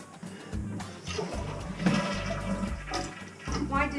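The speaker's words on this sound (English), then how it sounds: "So now I should flush the toilet to empty it." A Kohler toilet flushes with a loud rushing swirl of water that lasts several seconds, close by in a bathroom, with no talking.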